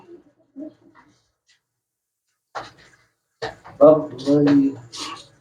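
Pigeons at a bird market coo softly in a few low, faint bursts, separated by quiet gaps, followed by closer sounds mixed with someone talking.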